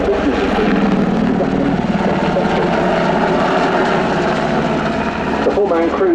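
A Swedish Air Force Sikorsky Hkp16 Black Hawk helicopter flies a display at the RIAT 2025 airshow, its loud, steady rotor and engine roar running throughout while an announcer talks over it.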